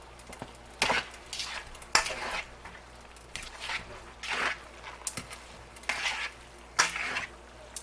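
Shrimp being mixed with soy sauce in a pan, with intermittent scraping and clinking of a utensil against the pan in irregular bursts, moderately close, no talking.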